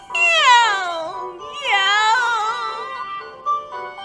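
A voice imitates a cat, giving two long, drawn-out meows followed by a short, softer one, loud and close.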